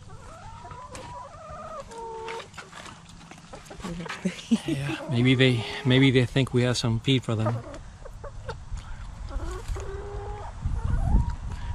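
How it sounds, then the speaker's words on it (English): Chickens in a newly built coop and run on a farm cluck and churr in busy, rhythmic bursts while people chat nearby. "Oh, check out the chickens."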